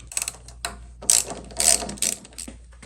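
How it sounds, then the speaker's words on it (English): Ratchet wrench clicking as a bolt is loosened on a Yamaha R1 motorcycle, close and fairly loud, in several quick bursts of rapid ratcheting across a few seconds. "Next, take off this bolt right here and put it in a safe spot."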